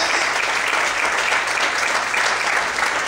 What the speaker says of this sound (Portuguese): Você pode aplaudir esse Cristo?